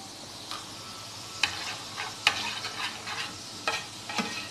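Butter melts in a pan over a medium-low flame for white sauce, giving a soft sizzle broken by several scraping stirs and clinks of a utensil against the pan.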